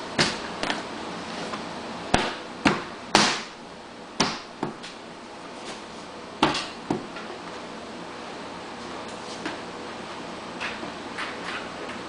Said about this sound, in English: then snap these lock pins into place